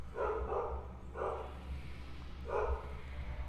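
Dogs barking in the background of a room, three muffled, fairly faint barks spread over a few seconds above a low steady hum, with no talking.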